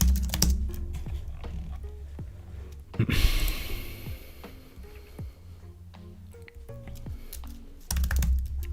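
Rapid typing on a computer keyboard during a typing session, a dense stream of close, crisp key clicks with short pauses, plus some breathing or low background noise and no talking.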